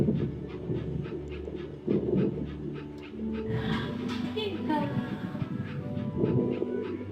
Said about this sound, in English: It's a real puppy.